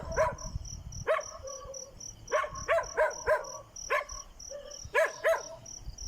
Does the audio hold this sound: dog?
yes